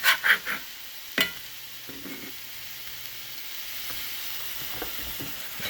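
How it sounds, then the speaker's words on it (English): Thin burger patties fry in a hot cast iron skillet, a steady close sizzle running throughout after a few sharp spatula clinks at the start. "we're going to go ahead and leave them for just a minute now and let them fry"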